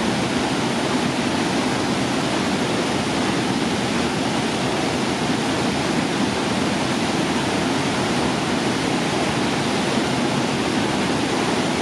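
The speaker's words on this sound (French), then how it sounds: "les eaux se déversent dans une cuvette et ravitaillent une piscine bouillonnante" The Kounsi waterfall in Fongolimbi pours into a rock basin and feeds a churning plunge pool, giving a loud, constant, broadband roar of falling water without a break.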